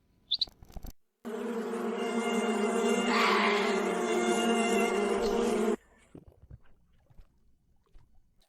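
Insects buzz loudly and continuously near a muddy island spot, a dense droning hum that starts abruptly, holds for several seconds, then cuts off into quieter background sounds.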